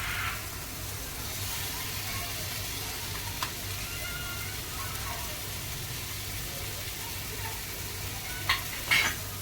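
Jaggery powder, cardamom and red chili powder are stirred into muramba cooking in a pan, giving a soft continuous sizzle with a few faint scraping clicks near the end.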